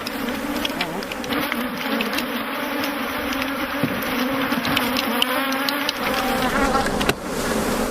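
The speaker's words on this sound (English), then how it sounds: "These bees will soon sort themselves out and return to their queen." A dense, steady hum of many honey bees buzzing close by at an African industrial apiary, a constant droning swarm that continues throughout.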